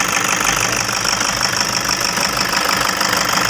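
A car engine idling steadily before a fuel filter replacement, its dashboard warning light on, giving a loud, even mechanical drone with a slight knocking texture and no pauses, up close with no voices.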